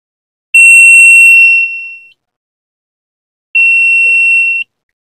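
A gear indicator switch fitted to an older Honda CB150R, using a CBR150 switch, sounds a steady electronic buzzer tone when the circuit connects. Two separate clear beeps are heard, the first about 1.5 seconds long and the second about 1 second, with silence between.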